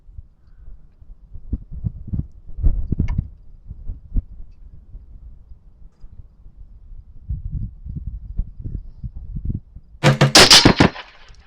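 A 224 Valkyrie rifle firing 75 grain Hornady ELD Match loads double-fires near the end: a loud, sharp burst of two shots in very quick succession, preceded by quieter handling clicks and knocks.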